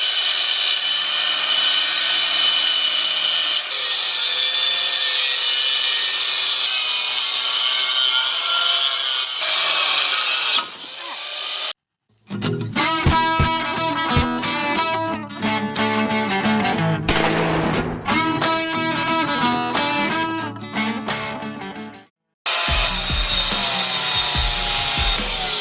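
A power tool grinds and saws through the welds holding a metal plate on farm equipment, a loud, close, sustained metallic whine in long bursts broken by a couple of brief pauses, with no talk.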